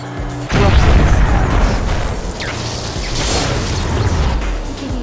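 A rocket weapon explodes in the Wipeout Pure racing game, a sudden loud boom that opens into a sustained rumbling, crackling roar over racing engine noise.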